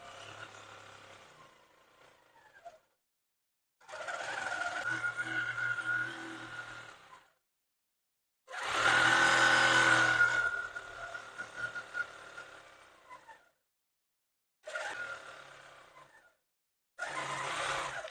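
Sewing machine quilting a crumb quilt runs in several bursts of steady whirring, one long loud run in the middle and shorter runs around it, separated by silent pauses.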